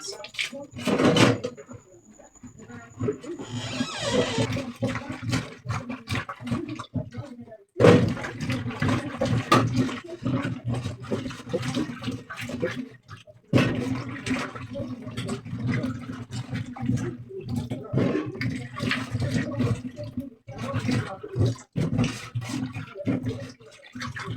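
Water sloshes and splashes as yam is rubbed and rinsed in a bowl in a Nigerian village, with repeated clunks and a voice talking over much of it.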